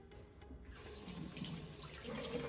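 Water runs steadily from a bathroom sink tap while a face mask is rinsed off during a skincare routine, a continuous close splashing that swells slightly partway through.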